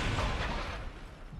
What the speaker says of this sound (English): So, 3 cannons being fired by these guys